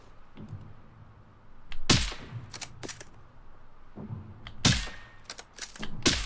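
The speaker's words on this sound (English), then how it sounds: "I'm starting to not like this rifle." A rifle fired in Generation Zero cracks out in sharp, loud single shots spaced a second or two apart, with fainter mechanical clicks and thuds between them and no talking.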